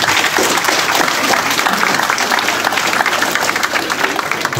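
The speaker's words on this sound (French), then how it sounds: "vous pouvez vous applaudir encore" Middle-school students in Charny applaud themselves at a sports event with champions, a loud, dense burst of clapping and crowd noise throughout.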